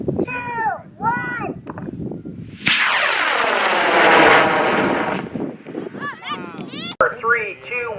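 A high power model rocket launches with a sudden loud roaring whoosh that rises and fades over a few seconds, with people talking before and after.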